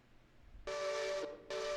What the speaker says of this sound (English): why the hell do I hear a steam engine coming around a corner?